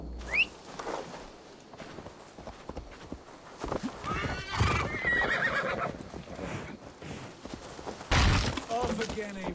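A horse neighs and hooves clip-clop in Assassin's Creed Valhalla, mixed under game voices, music and clattering effects as riders set off, with a loud whinny bursting out near the end.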